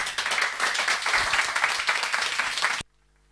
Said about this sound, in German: Ich glaube, der Applaus hat gerade sehr gut gezeigt